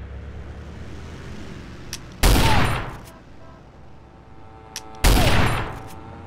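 Gunfire in GTA San Andreas: two loud, close bursts of shooting a few seconds apart, each a sharp crack that rings out and fades, over quiet background game sound.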